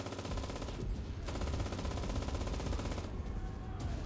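A machine gun fires in the World War II shooter Enlisted, a dense, continuous rattle of rapid shots that stays loud and close throughout with no pause.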